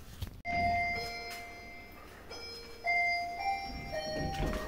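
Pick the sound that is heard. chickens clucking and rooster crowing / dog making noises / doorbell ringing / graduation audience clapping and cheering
doorbell ringing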